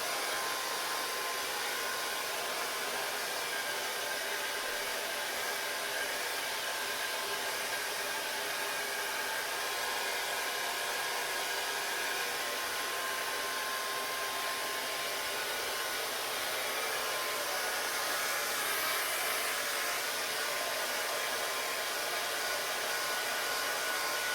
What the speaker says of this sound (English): Okay, with the hair dryer.